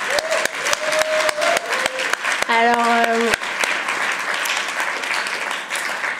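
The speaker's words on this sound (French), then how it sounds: "Bravo à tout le monde, applaudissez-les." An audience at an association meeting applauds a newly elected board, with sustained dense clapping from a crowd in a room while a voice speaks briefly over it.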